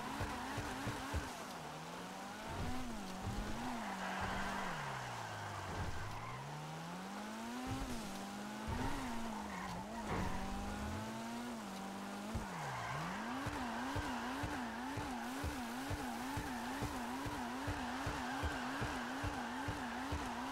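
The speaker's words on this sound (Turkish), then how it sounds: "Bir bakalım nasıl kayıyor." A drift car slides and skids in GTA Online, its tires squealing continuously over a revving engine, with sweeping pitch changes as it drifts through repeated slides.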